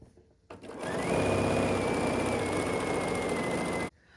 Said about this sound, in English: we're going to sew across the top here with 1/4 inch